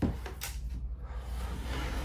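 A sliding pocket privacy door in a 2024 Cruiser RV Avenir 24RB camper gives a brief rolling slide and soft knock near the start, followed by a steady low interior hum.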